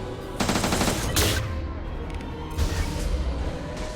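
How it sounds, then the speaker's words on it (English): Heavy gunfire in the video game Mass Effect 2 sounds as dense bursts of automatic fire, with a loud burst early on and another near the end over constant battle noise. "Watch for heavy fire."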